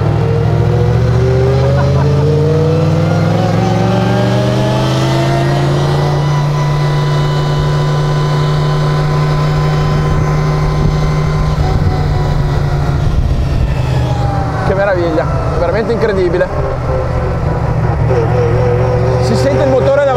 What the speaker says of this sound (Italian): Si sente il motore davanti che gorgoglia con questa distribuzione.